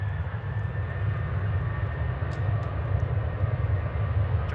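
A Jet2 airliner begins its takeoff roll at Manchester Airport, its engines making a steady low rumble with a faint whine on top, heard from a distance with no talk.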